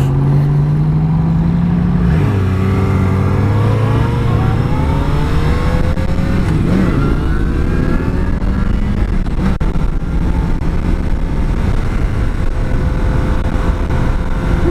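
Motorbikes rumble and rev alongside on an open road, a steady loud engine drone with a gear shift and rising, falling pitch as other bikers ride close and pass.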